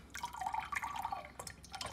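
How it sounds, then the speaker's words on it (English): Water pours from a 1.2-litre glass carafe with a lid, a short close-up spill of trickling and dripping that lasts under two seconds and stays soft. "Oh, doesn't pour at the same angle."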